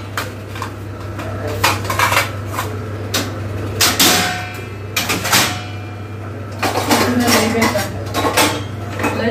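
Steel pots and utensils are scrubbed and rinsed in a home kitchen, giving repeated close clatters and clinks in irregular bursts over a steady low hum, with no talking.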